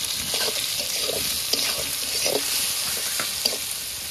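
Fish sizzles steadily in hot oil in a pan as salt, turmeric and green chilli go in, a loud continuous hiss with small soft clicks and pops throughout.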